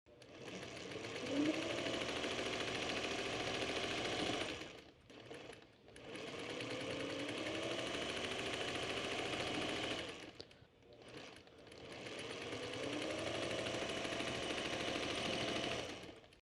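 Sewing machine chain piecing fabric pieces for a quilt block, running in three long steady bursts of rapid whirring stitching separated by brief pauses, close and clear with no talk.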